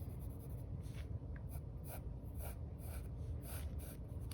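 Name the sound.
drawing a line on paper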